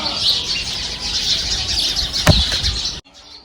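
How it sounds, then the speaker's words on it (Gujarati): A dense chorus of sparrows chirps from a neem tree, with wings flapping among them and a sharp rustle near the end before it cuts away. "લીમડાના ઝાડ ઉપર કેટલા બધા ચકલા છે"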